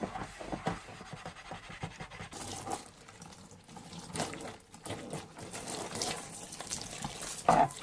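An abrasive pad scrubs a cast iron pan in warm soapy water, producing rhythmic wet rasping strokes with sloshing and splashing, close and moderately loud throughout.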